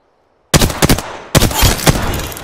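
Gunfire in the Apex Legends game: loud bursts of rapid shots in two clusters after a brief silence, sharp cracks rolling into dense automatic fire.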